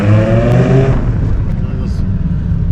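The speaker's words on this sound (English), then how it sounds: "So I'm gonna hit full throttle right here and see what it does." A 1997 Dodge Viper GTS engine revs loud and close at full throttle, a brief strong roar that tapers into a lower rumbling drone, with a voice briefly over it.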